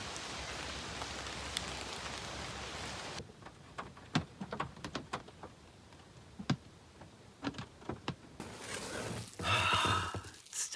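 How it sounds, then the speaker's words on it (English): Rain falls during solo fall car camping, first as a steady hiss and then as scattered, close drips and taps on a quiet background, with the hiss returning at the end. "It's raining."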